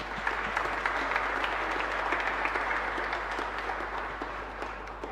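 A congregation at a Catholic Mass in a chapel applauds steadily, fairly faint and distant, a continuous wash of clapping with a low hum beneath and no talk.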